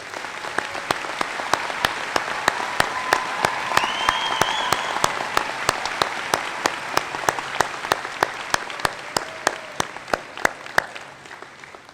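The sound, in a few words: audience applause for faculty at college commencement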